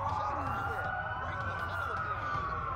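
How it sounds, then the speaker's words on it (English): Loud wailing police siren in Watch Dogs rising and falling steadily throughout, with a second overlapping siren and traffic noise underneath. "That's a lot of sirens for a blackout."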